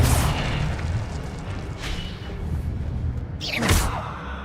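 An Incendio fire spell is cast in the game Hogwarts Legacy: rumbling, whooshing bursts of flame with a sharper, louder blast near the end.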